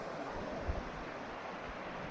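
A creek flows beneath a bridge on the Cutthroat Trail near Washington Pass in the mountains, a steady, broad rushing wash that stays even throughout, with one brief low thump partway through and no voices.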